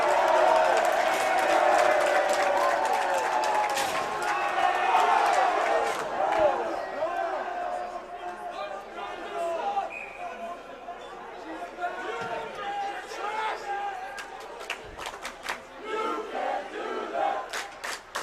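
A Kinnelon high school hockey crowd roars and chatters loudly in a rink after a tripping call, the noisy swell fading into scattered shouts and murmur.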